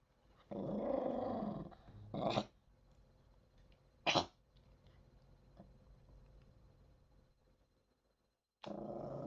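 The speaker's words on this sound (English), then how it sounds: "He's growling at you guys." A dog growls low and close in an indoor room, a sustained rumbling growl followed by a few sharp snorts or huffs, then quiet before the growl resumes at the end.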